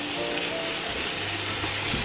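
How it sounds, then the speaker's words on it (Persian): Onions sauté in hot oil in a frying pan, giving a steady, close hiss and sizzle with faint crackles and a low background hum. "پیاز رو به تابه اضافه میکنیم و مقداری تفت میدیم تا پیازامون نرم بشن"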